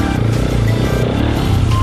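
Motorcycle engine running loud and close, a steady throbbing idle with slight rises in pitch, no speech over it.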